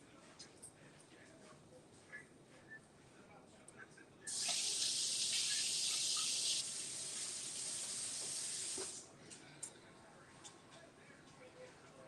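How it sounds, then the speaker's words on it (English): A knife rinsed under a running kitchen tap: a bright, loud gush of water that starts suddenly, runs steadily for about four seconds and then cuts off, with quiet room sound before and after. "let me rinse my knife off"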